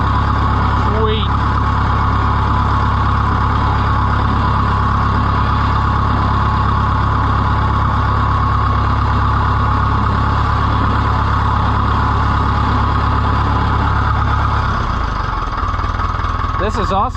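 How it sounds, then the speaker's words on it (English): An Oliver 1450 tractor engine runs with a new exhaust pipe, a loud, steady low idle rumble holding for most of the span before the tone shifts near the end as the engine changes pitch. "This is also the first time out with this new exhaust pipe to hear it run."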